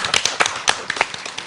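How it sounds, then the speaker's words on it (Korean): A small audience at a book concert in Mokpo claps briefly in thanks to the publishing committee chair, scattered individual claps rather than a full ovation, fairly close and moderately loud with no talk over it. "저희가 박수 한번 보낼까요?"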